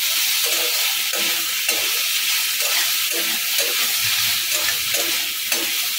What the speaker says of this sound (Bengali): এটাকে আমি ভাজা ভাজা করবো।